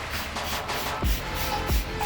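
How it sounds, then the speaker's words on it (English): A spray bottle of cleaner hisses in a steady, close-up spritz inside a trash can against a low background rumble, with a couple of soft thumps; no one speaks. "A little more of the spray."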